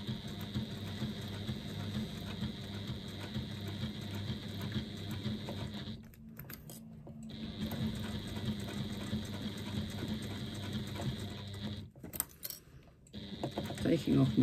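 A sewing machine top stitches an eighth of an inch from the raw edge of a bag strap, running in steady continuous bursts with two brief pauses, close and fairly loud, with faint handling noise.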